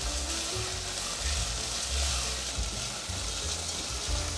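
Pumpkin and pearl barley stir-fried together in a hot pan produce a loud, continuous sizzle, broken up by repeated low scraping strokes of a spatula.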